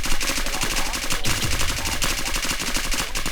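Rapid, continuous automatic gunfire from a video game, loud and dense throughout with no pauses, layered bursts overlapping.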